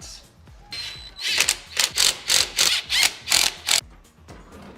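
A hand ratchet tightens a bolt on a car's turbo pipe during an H22 engine swap, giving a close series of about eight sharp, evenly spaced clicking bursts with a quieter clicking lead-in.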